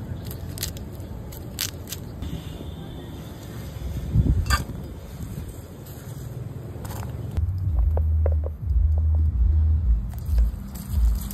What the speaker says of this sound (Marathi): लसूण थोडंसं आपण वाटून घेऊ